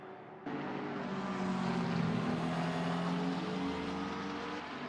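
McLaren and BMW GT3 race cars in a sim-racing game at Spa, a loud sustained engine drone with rising and falling tonal whine, close and continuous, with no talking.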